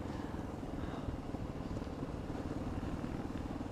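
Dual-sport motorcycle riding a horse trail in the Virginia highlands, with a steady, continuous engine drone and wind noise throughout, fairly loud and unbroken, no talking.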